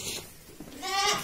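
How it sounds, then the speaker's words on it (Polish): Young miniature goats bleat in a short, close call near the end, with a faint bit of barn noise before it. "młode kozy najprawdopodobniej"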